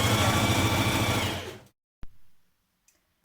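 A sewing machine runs a straight stitch along a T-shirt seam, a loud, fast, steady whirring for about a second and a half, then stops abruptly, followed by a couple of faint handling knocks.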